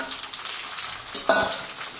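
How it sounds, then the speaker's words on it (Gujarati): Sesame seeds frying in oil in a pan as cut pieces of dhokla are added, a steady close sizzle with light stirring scrapes and a brief clink partway through. "તલ થોડા તેલમાં સંતળાઈ જાય ત્યારબાદ આપણા જે કટિંગ કરેલા ઢોકળા હતા એ આપણે અંદર એડ કરી દઈશું."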